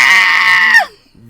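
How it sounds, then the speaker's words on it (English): A goat gives one loud, drawn-out scream that sounds almost human, then cuts off sharply with a falling tail and quiet after it. "Like the screaming goat"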